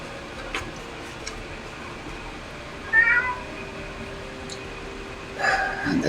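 A house cat meows twice, close and fairly loud, about two and a half seconds apart, over a quiet indoor background with a soft, steady tone.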